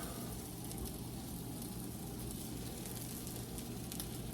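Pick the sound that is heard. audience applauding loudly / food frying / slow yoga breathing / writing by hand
food frying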